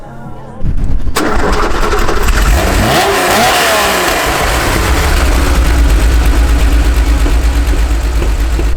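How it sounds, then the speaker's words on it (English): A Porsche 911 SC's 3-litre engine cranks briefly, then catches and settles into a loud, steady idle with a deep low rumble and a quick rev partway through. "this runs a little 911 SC engine, 3 litre"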